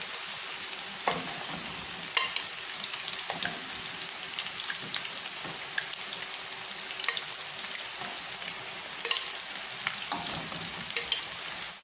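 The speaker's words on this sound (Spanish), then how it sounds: "En lo que se van friendo mis albóndigas" Meatballs sizzle and fry in a pan with a steady crackling hiss, occasional pops and small clinks, up close.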